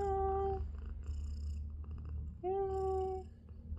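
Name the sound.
pet cat meowing and purring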